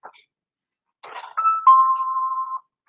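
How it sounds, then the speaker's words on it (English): A phone notification chime rings out: a short electronic ding followed by a sustained bright tone lasting about a second, clear against otherwise quiet surroundings. "Shut off my notification so I wouldn't get the bells dinging in y'all's ears."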